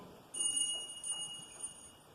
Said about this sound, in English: a tiny tinkling bell on the breeze